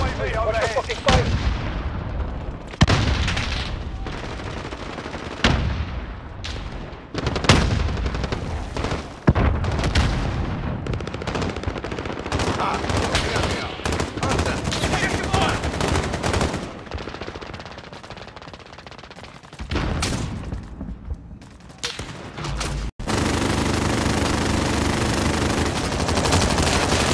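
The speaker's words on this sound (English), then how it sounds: "Allied cluster strike, keep that." Heavy gunfire in a Call of Duty Warzone match, with bursts of automatic fire and booming blasts from a cluster strike that are loud and continuous across the whole clip, briefly thinning near the end before a dense roar returns.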